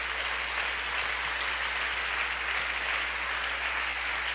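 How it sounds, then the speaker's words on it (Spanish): Church congregation applauding during a Spanish-language Christian service: a continuous, even wash of many hands clapping at moderate distance, with a low steady hum beneath it. "Dele un aplauso al Señor en esta hora."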